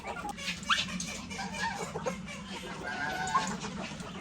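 Farmhouse chickens cluck and chirp in scattered short calls close by, over a low steady background hum, with no talk.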